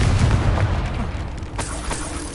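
A blasting spell goes off in Hogwarts Legacy, a deep booming explosion with a heavy low rumble that fades over a couple of seconds.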